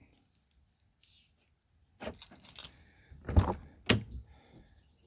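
Quiet at first, then a cluster of clicks and rattles followed by two sharp thunks as the door of an Audiopipe Blazer is unlocked and pulled open nearby.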